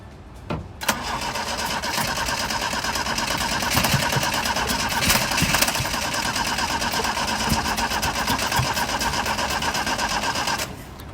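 An old Toyota SR4 project car's engine, due for a 20V engine swap, cranks and catches, then runs with a rough, steady idle for several seconds before cutting off abruptly.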